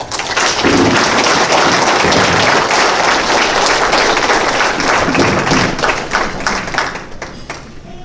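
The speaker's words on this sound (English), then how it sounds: "I'd like to give a round of applause to everybody here who volunteers" A chamber of commerce audience gives volunteers a round of applause, with dense, loud, sustained clapping filling the room for several seconds before it thins out toward the end.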